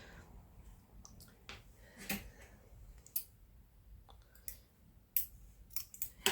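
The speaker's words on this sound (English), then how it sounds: "I'm going to cut just 3 inches of elastic" Quiet, irregular snips and clicks of scissors cutting a short length of elastic for a sewn headband, close and faint against a soft background.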